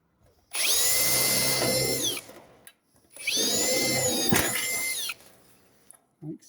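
Power drill boring through plastic guttering, two sustained high-pitched bursts with a short pause between them, close and loud, the second ending with a sharp knock before the motor spins down.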